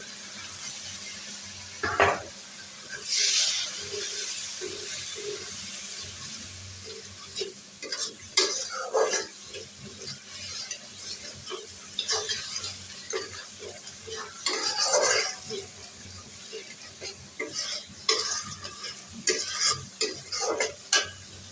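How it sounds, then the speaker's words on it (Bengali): Spices sizzle steadily in a hot frying pan, with repeated scraping and clinking of a spoon stirring them throughout; close and moderately loud, no talking. "মশলা চিটফিট করে ফুটছে"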